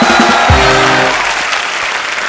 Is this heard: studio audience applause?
yes